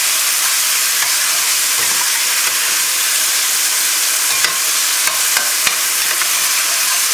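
Beef and Chinese vegetables sizzle steadily in a hot stir-fry pan, a loud, continuous hiss and crackle with occasional sharper pops and no pauses.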